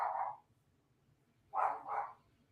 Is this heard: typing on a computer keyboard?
no